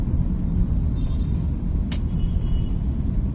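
Heavy road traffic in a jam in Manila, a constant loud low engine rumble with a sharp hiss of an air brake partway through, no speech.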